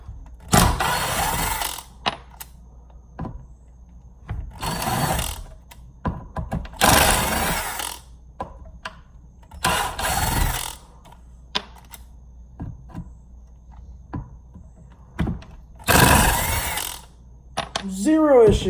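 A Ryobi impact driver sinks drywall screws in repeated bursts of rapid rattling hammering. The bursts are loud and close, each lasting a second or two, separated by quieter gaps.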